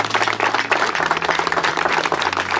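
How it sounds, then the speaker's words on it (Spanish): Audience applause for the municipality of Berisso, a dense, loud burst of many hands clapping continuously throughout, with a low steady hum underneath. "un aplauso al municipio"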